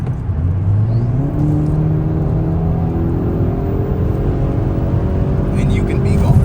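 A Hyundai Elantra N in N mode accelerates hard from inside the cabin, its engine rising in a steady loud climb with rumbling exhaust, while a person talks over it.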